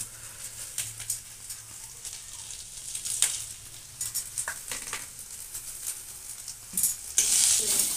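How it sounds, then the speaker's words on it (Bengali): Spice paste with Kashmiri red chilli and ground coriander stirred and fried in a pan for a narkel curry; a soft continuous sizzle under scraping spoon strokes, swelling louder near the end, no talk. "এখন তো মশলাটা কষা হচ্ছে"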